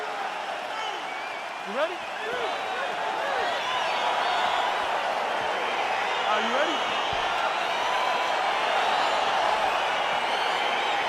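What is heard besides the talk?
arena crowd cheering, from a video game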